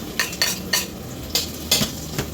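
Garlic sizzles in a hot pan under steady frying hiss, with several sharp stirring scrapes and clinks at irregular intervals, close and fairly loud.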